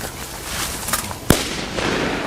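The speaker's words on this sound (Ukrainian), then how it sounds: "Граната!" A grenade goes off during a training exercise as a single sharp, loud burst heard through steady background noise, followed by a brief rumbling tail.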